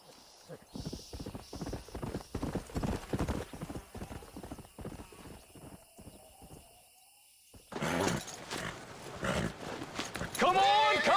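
Horse hooves clip-clop in the Red Dead Redemption video game, a quick run of steady hoofbeats followed by quieter steps, with character dialogue, a whinny and shouting heard alongside.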